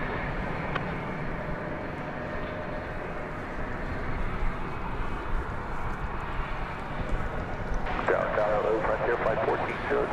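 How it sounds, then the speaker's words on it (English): A UPS Airbus A300 cargo jet departs from Dallas-Fort Worth, its engines a steady broad rumble that builds slightly, with a brighter whine entering near the end. "So this is the A300 that came in from Orlando."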